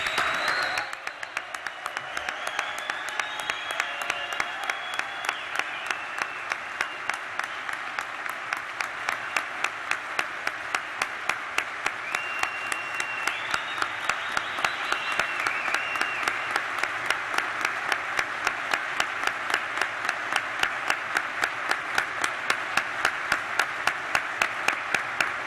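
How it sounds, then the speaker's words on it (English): An audience at a public memorial applauds steadily for about twenty-five seconds, a dense, even wash of many hands clapping with no voices on top. "could we give it up, a round of applause for D."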